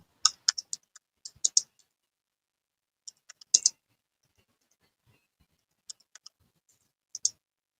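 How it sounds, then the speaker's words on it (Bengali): Keystrokes on a computer keyboard entering a search, sparse clusters of crisp close taps in short bursts separated by pauses, quiet room with no talking. "আমরা এখন খালিদ লিখি দেখেন"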